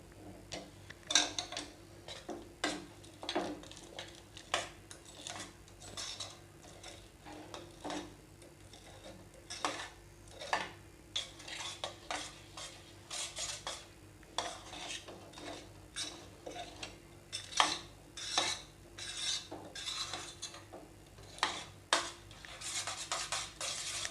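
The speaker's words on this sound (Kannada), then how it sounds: "ಈಗ ಇದನ್ನೆಲ್ಲ ಸರಿಯಾಗಿ ಮಿಕ್ಸ್ ಮಾಡ್ಕೊಳ್ಳೋಣ ನಾವು" Spoon clinking and scraping against a bowl while mixing aloe vera gel and other ingredients for a homemade hair mask, a steady run of close, light taps and stirring scrapes with no talking.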